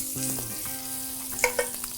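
Döner meat frying in melted butter in a pan gives a close, steady sizzle, with a low hum underneath and a few small pops near the end.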